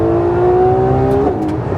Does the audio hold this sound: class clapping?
no